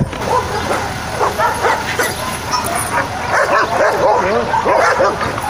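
Many dogs at an animal shelter bark, yip and whimper continuously and loudly, a dense overlapping chorus of close and farther voices with no pause throughout.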